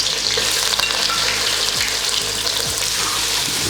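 Onions added to a hot pan with cumin and bay leaf for chicken pilau, giving a loud, continuous sizzle and crackle of frying close up, with faint stirring and no talk.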